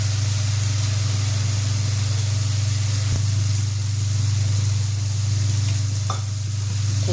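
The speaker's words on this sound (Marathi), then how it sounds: "ठेच्याला चांगलं परतून घेऊ" Red chilli thecha sizzles and fries steadily in a hot pan, a continuous loud hiss that stays even throughout, with a faint scrape midway and no talking.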